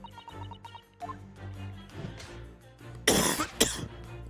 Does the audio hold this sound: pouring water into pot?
no